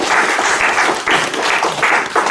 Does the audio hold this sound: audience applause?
yes